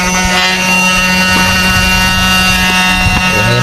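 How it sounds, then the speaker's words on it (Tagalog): Steady whirring drone of a power inverter's cooling blower fan running, loud and constant with a persistent hum and a few faint clicks. "Yan na yung blower."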